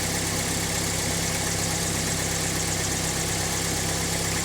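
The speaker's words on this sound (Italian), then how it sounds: "metteremo in moto il veicolo, vediamo cosa fa" A car engine idles steadily after being started during a test with a Tooltop ET2202 lead-acid battery tester, giving a constant low hum with an even, unchanging drone and no voices.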